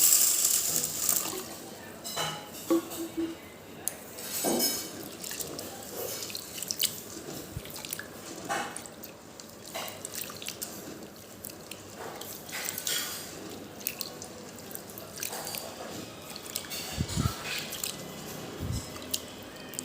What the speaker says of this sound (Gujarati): આવી રીતે બે ત્રણ વખત એને ધોઈ કાઢવાની છે